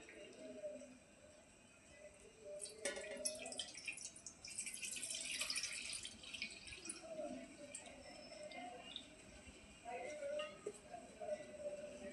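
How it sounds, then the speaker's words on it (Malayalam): Water is poured into a vessel for a flower-decorated bowl: a quiet splash and trickle building mid-way, with faint drips before and after in a hushed room. "ഇതിനകത്ത് നമുക്ക് കുറച്ച് വെള്ളം ഒഴിച്ച് കൊടുക്കാം"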